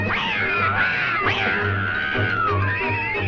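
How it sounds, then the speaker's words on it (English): A crowd of cartoon cats from the Woody Woodpecker short The Secret Weapon meows and caterwauls loudly, with long wavering, overlapping yowls filling the scene. "Cats all over the place."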